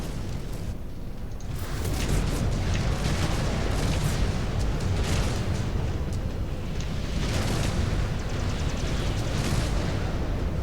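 Missile explosions boom through a MechWarrior 5: Clans battle, a dense, loud, continuous roar of blasts and rumbling impacts with a few sharper bursts rising out of the din.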